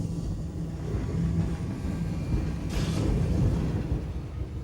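A steady low rumble of a train arriving from Tirano on the Bernina line in winter, with a brief brighter hiss partway through and no voices.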